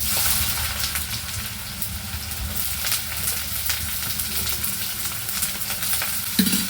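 Onions frying in hot coconut oil in a pan for a crab roast sizzle loudly and continuously, with stirring scrapes and rustles close by and a brief clatter near the end.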